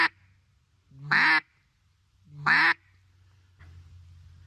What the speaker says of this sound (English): You can take that quack now